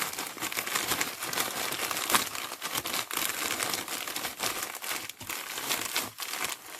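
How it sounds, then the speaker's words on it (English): Coloured salt squished around inside a plastic bag by hand, producing a continuous crinkly, gritty rustle with irregular scrunching pulses, fairly close and steady throughout. "squish the salt all around in the bag and get it all coloured"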